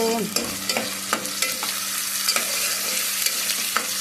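Ingredients for a Mangalore-style surmai (kingfish) curry sizzle steadily in a pan, with regular scraping and stirring clicks from a spoon repeating every half second or so, up close and alone.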